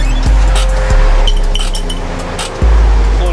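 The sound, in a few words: pulling the emergency brake of a VW Golf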